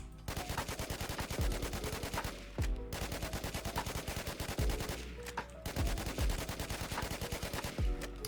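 Rapid automatic gunfire from the online survival shooter WarZ, a weapon dealing 800 damage fired in long bursts with brief pauses between them, steady and dense and heard alone.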